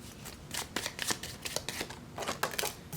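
Tarot cards being shuffled by hand in quick, uneven bursts of crisp riffling and slapping, close and fairly quiet, with no talking.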